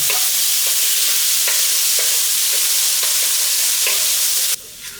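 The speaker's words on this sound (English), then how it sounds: "I'm first gonna add in 1 teaspoon of crushed garlic. Stir that around." Crushed garlic sizzling in oil in a wok, a bright continuous hiss broken by a regular scraping rhythm of stirring strokes, close and loud, ending abruptly near the end.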